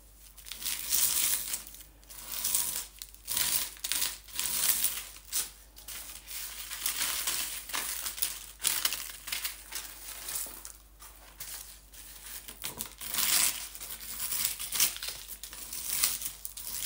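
Dried flower pigment scraped off paper by hand: a long run of dry, crinkly scratching strokes in irregular bursts, close and fairly quiet, with soft papery rustles between strokes.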